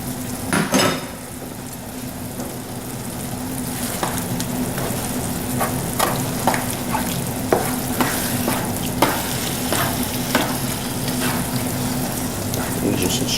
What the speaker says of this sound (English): And just stir this around.